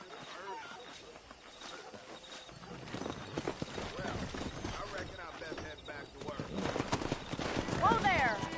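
Horses gallop in Red Dead Redemption with a fast clip-clop of hooves, building louder toward the end, with a whinny and someone shouting over the hoofbeats.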